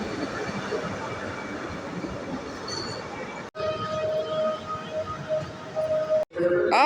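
An S1 Flirt passenger train at a Polish station, giving a steady loud rumble of rolling stock with a faint horn-like tone near the middle and end.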